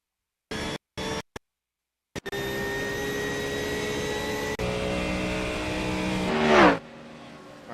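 An onboard race car engine in a sim race at Sebring drones loudly and steadily after a few brief cut-outs, then rises in pitch before abruptly dropping away.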